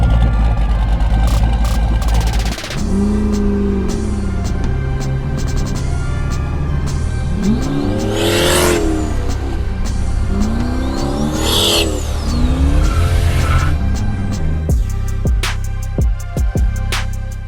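A car roars past up close with a rising and falling engine note, then another sweeps by moments later, loud over a steady low rumble.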